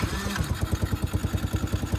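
Chinese-made kids' quad ATV engine running just after starting, a loud close-up rapid steady putter with evenly spaced firing pulses and no talk.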